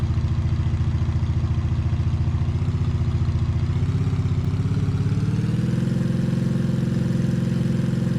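A minibus engine in modded Minecraft drones steadily and low, its pitch rising slightly midway as it revs up, with no talking.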